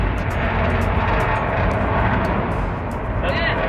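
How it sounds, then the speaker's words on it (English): A low-flying airplane passes overhead in San Antonio, a loud, steady broadband roar filling the whole moment, with faint voices underneath. "The plane just went over us."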